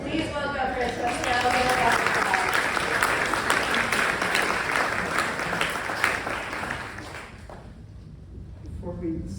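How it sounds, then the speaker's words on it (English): Sustained audience applause fills a university exhibition opening hall, broad and steady for about seven seconds before tapering off, with a few stray claps near the end. "can we also give another round of applause?"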